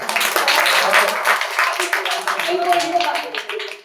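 Audience applause at a multimedia summer camp session, a dense steady clapping that fills the first half and then thins, with a voice talking over the later part.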